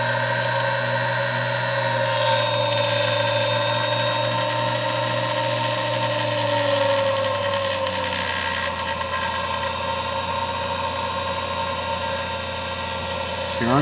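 A Grizzly G0781 mill fitted with an upgraded motor runs steadily on a test, a loud sustained mechanical whine and hum with a slight pitch shift partway through, close up and continuous throughout.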